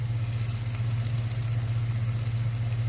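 Ginger garlic paste dropped into hot oil for a potato curry sizzles and crackles steadily, loud and close throughout, with no voices.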